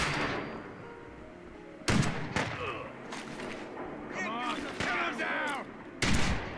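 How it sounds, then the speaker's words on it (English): Shots from an Institute pistol in Fallout 4, a few sharp loud reports spaced seconds apart, separated by game effects and a voice talking between them. "Fuck it, we're using the Institute pistol."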